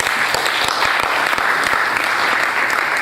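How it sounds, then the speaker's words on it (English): A conference audience at an anatomical society's annual scientific meeting claps in sustained, dense applause from a large room, loud and steady throughout. "Please a round of applause for him as he goes back to his seat."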